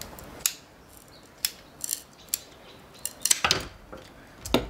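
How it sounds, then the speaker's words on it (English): Long sticks are being cut down to size with a sharp blade, giving a series of sharp, isolated snips and clicks spaced out over a quiet background, each one close and crisp. "I'm going to try and cut these down a little bit."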